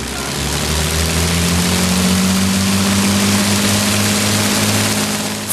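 Four 1,500 horsepower Rolls-Royce Merlin engines of an Avro Lancaster bomber droning loudly and steadily, a dense continuous roar with a deep propeller throb and a slowly rising tone.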